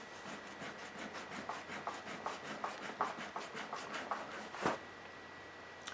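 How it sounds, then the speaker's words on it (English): A 400 grit fret rubber polishes a guitar fret in quick, regular back-and-forth scrubbing strokes, about a dozen soft rasping passes that are faint and close, then stop. "So I'm going to redo this fret now that it has 400 grit on it."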